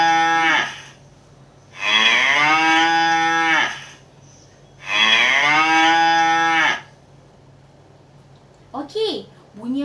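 A cow lowing in two long, loud, sustained moos, each lasting about two seconds and separated by a pause, close and clear over a faint steady hum, followed by a brief voice at the end.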